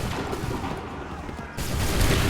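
Musket volley fire in Assassin's Creed III rolls out as a dense, continuous crackle of many guns on a battlefield, loud and steady, rising into a fresh burst near the end.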